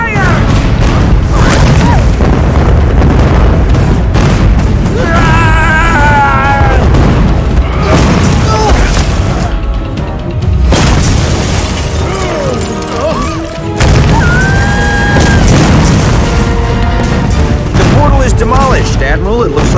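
Cannon fire and explosions boom and crash as a portal is demolished in the animated film The Snow Queen: Mirrorlands, loud and dense throughout, mixed with music and shouting voices.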